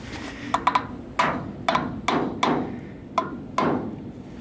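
A hammer taps a press-fit part into an 18 ft steel deck car trailer, about nine sharp metallic knocks in irregular ones and pairs, close and clear against a quiet background.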